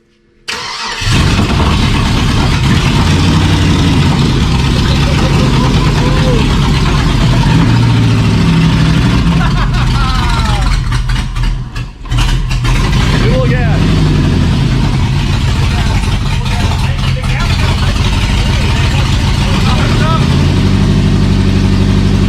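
A V8-swapped Jeep Comanche idles loud and raucous, a steady, heavy rumble that runs continuously with a brief dip partway through. People talk over the engine.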